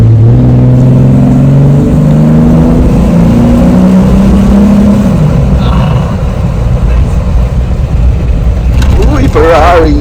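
A Ferrari sports car engine revs loud and close on a busy road near Yas Island, low throaty tones rising and falling under steady traffic rumble, with someone talking over it.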